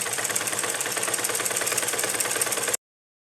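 A sewing machine runs a double line of stitching on a ladies' plazo, giving a steady, rapid mechanical chatter that holds evenly for under three seconds and then stops dead.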